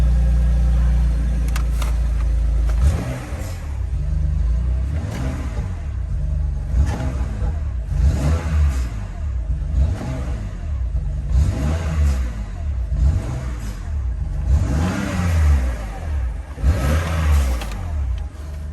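A BMW M2 Competition engine revs up repeatedly in rising and falling swells, a deep rumbling whir building and easing about every second or two, loud and close.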